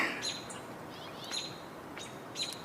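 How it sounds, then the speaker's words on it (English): Small songbirds, a robin and house sparrows, sing outdoors at moderate distance with several short high chirps and trills that come in bursts over a faint background hiss. "So you're hearing a robin, you're hearing house sparrows."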